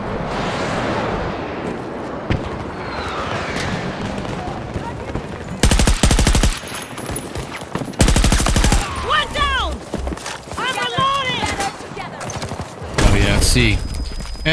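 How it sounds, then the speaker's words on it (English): Rapid automatic gunfire in the video game Battlefield 2042 comes in several loud bursts, with rattling volleys and explosions in a chaotic firefight, while players talk over the action. "Anybody on the field shooting at us?"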